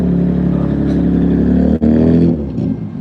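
A Toyota Supra revving at the Daikoku car meet in Tokyo, a loud close engine roar holding steady, then a sharp brief cut before it returns and eases down to a lower idle rumble.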